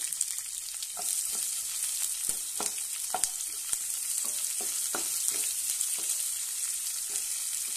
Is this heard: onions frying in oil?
yes